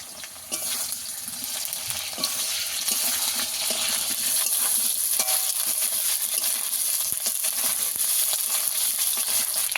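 Potatoes frying with ginger paste in a pan give a steady, close, bright sizzle, with spoon stirring and scraping scattered throughout and no talking.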